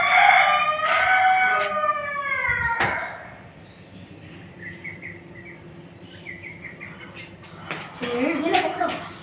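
Roosters and chickens in a village yard give a drawn-out crowing call at the start, then scattered softer clucks and cries, with people talking over them.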